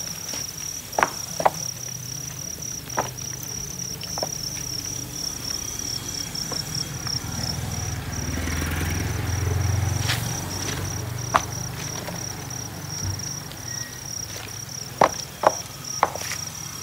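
Thai house crickets raised on a cricket farm chirp in a steady, dense drone that carries through the whole stretch, with occasional soft ticks and taps from nearby movement.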